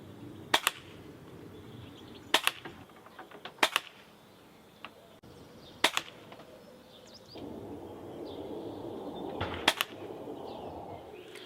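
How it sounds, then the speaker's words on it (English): An air rifle fires five pellets at a witness board outdoors, each shot a sharp, close crack spaced a second or more apart, with faint birdsong and rustling between shots. "let's go down now and fire 5 pellets at this and see where we're actually hitting"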